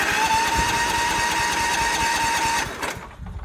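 A Toro lawn tractor's engine cranks over steadily with a choke applied, a rapid mechanical chugging up close that never catches. A faint whine runs underneath until the cranking abruptly stops.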